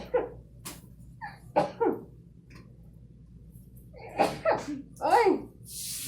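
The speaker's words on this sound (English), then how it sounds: "I knew I was gonna sneeze." A person sneezes during a Covid test, with a couple of sharp bursts amid short vocal sounds and talk; the sneezes are close and loud against a quiet room.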